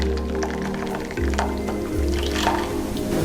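Sago milk dessert mixture is poured into a bowl, giving close, thick wet glugs and squishy drips in a few short bursts.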